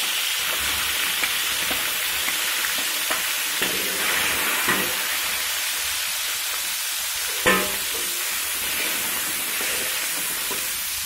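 Sweet shrimp dropped into hot cooking oil in a home kitchen, giving a steady, bright sizzle and hiss throughout, with occasional stirring clatters and a sharper pan knock partway through.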